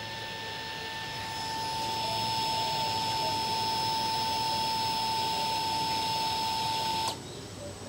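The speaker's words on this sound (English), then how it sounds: "that's a fuel pump running" Fuel pump of a Triumph Speed Twin 1200 motorcycle running during a diagnostic test, a steady electric whine with a pure tone, close and continuous, cutting off abruptly near the end.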